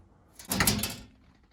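Interior door panel going onto a BMW E36 drift build with a single close thump and brief rattling clatter lasting about half a second, fairly near, with no talking.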